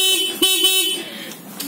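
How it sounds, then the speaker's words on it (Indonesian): An original factory car horn sounds in one short, fairly loud honk that fades out, recorded close by, with no voices over it. "Ini klakson orinya."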